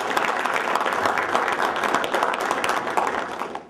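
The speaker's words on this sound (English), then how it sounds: "Y'all can give a round of applause for that." Audience at a press conference marking a signing between AFC and Alabama A&M University breaks into sustained applause, dense, even clapping that holds steady for several seconds before starting to fade.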